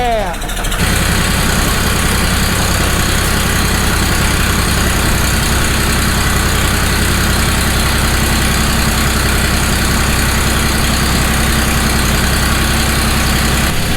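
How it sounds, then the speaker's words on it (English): A small Ford 1720 27-horsepower tractor engine idles steadily in cold, snowy weather, a loud, close, continuous rumble running unbroken from just after the start. "This is my little Ford 1720. 27 horsepower tractor."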